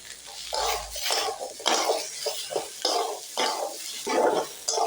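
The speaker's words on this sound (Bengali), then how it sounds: "আলুটা আদা আর জিরের সঙ্গে ভালো করে নাড়তে থাকবো। এবার আমি শিমগুলো দিয়ে দিচ্ছি।" Potatoes stirred in a pan with ginger and cumin as green beans are tipped in, giving a series of close scraping stir strokes over a soft, steady sizzle, with occasional utensil clinks.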